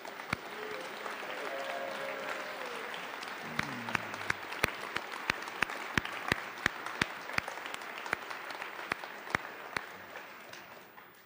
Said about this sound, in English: we'll clap for you guys